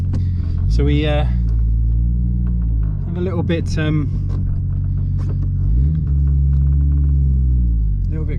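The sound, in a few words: car with a quieter, less droney exhaust while driving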